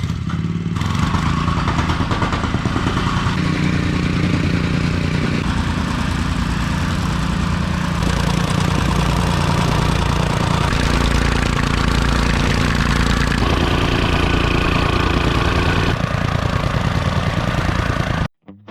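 A plate compactor runs on a driveway being widened and resurfaced, a loud, steady engine drone with rattling vibration that shifts in tone as it moves, then cuts off at the end.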